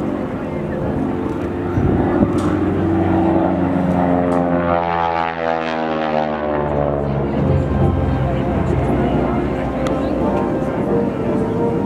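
A North American Harvard (T-6 Texan) propeller training aircraft flies past at the Canadian International Air Show in Toronto. Its loud engine drone rises and falls in pitch as it passes, with a commentator talking over it.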